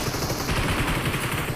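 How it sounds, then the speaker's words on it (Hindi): Gunfire inside the BGMI battle-royale game, a dense run of rapid shots rattling steadily through the whole moment under a constant noisy bed, with no voice over it. "यहाँ पे गोलियाँ चल रही होती हैं"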